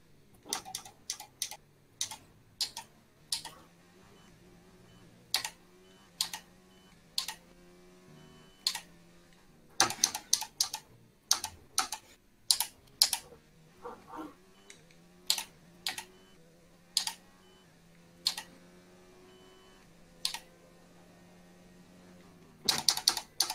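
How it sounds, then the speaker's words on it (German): A racing game steering wheel used for F1 2019 gives off sharp, irregular plastic clicks, some single and some in quick clusters, fairly close and loud over a low steady hum, with no one talking. "sorry für dieses Klicken die ganze Zeit, das ist bei Pit seinem Lenkrad"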